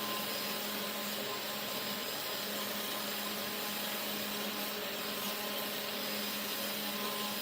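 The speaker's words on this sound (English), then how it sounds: "I'm not running the spindle at full speed, you know." A CNC router spindle spinning below full speed while cutting a tic-tac-toe game mold, a steady broadband whirring roar that holds constant throughout with no pauses.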